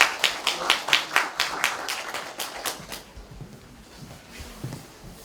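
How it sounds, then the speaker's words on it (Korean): A small group of parents at a high school information session claps briefly, a quick patter of hands that fades out after a few seconds into a quiet room. "자, 박수 부탁드릴게요."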